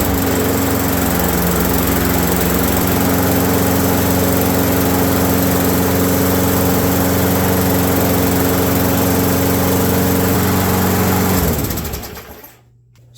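A Craftsman walk-behind lawn mower engine runs loud and steady, close by, with a constant high-pitched drone that cuts off and winds down near the end.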